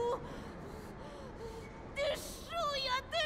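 A female character in Beyond: Two Souls breathes heavily through childbirth, with quick gasping inhales and whimpering exhales in short bursts, close and fairly quiet.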